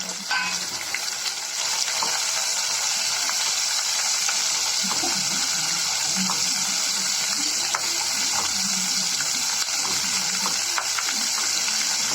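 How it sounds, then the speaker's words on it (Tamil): Onions and green chillies fry in oil with a steady, close sizzle for a Chettinad green chilli dish, and faint stirring clatters run beneath the hiss throughout. "வெங்காயம் பச்சை மிளகாய் எல்லாம் நல்லா எண்ணெயிலே வதங்கி வேகட்டும்."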